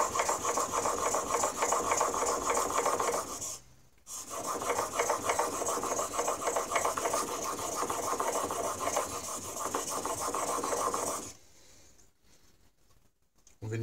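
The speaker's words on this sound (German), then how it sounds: "Hier den Schleifstein öfters mal umdrehen." A planer knife is rubbed back and forth on a whetstone in steady, continuous rasping strokes, loud and close. There is a brief pause midway, then it quiets near the end.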